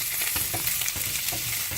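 Lamb with salt sizzles and spits in a hot pan as it sticks, a steady close frying hiss with small crackles throughout.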